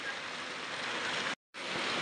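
Steady rain pouring down during the monsoon, a constant dense hiss of falling water that cuts out briefly for a moment before resuming, with no voices.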